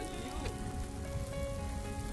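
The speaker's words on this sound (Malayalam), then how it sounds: "നമ്മളിപ്പോ ഒരു കൊടക്കീഴിൽ മഴ നല്ല മഴ പെയ്യുന്നുണ്ട്" Rain patters steadily on an umbrella in the hills, a continuous close hiss of drops with no talk.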